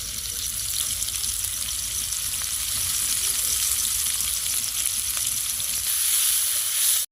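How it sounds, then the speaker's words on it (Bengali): Ginger paste sizzles in hot oil over a tempering of cumin, dried red chilli, bay leaf and whole garam masala. The hiss is steady and fairly loud throughout, then ends abruptly. "তরকারিটা বানানোর জন্য ফোড়নে দেব জিরে, শুকনো লঙ্কা, তেজপাতা আর কাঠ গরম মশলা। ফোড়নের উপরে আদা বাটাটা দিয়ে দেবো।"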